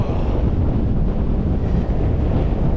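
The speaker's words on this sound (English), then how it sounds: "Windy, windy woos." Strong wind on the Cape Wrath Trail in northern Scotland roars and buffets the microphone continuously, a dense low rumble with no voices.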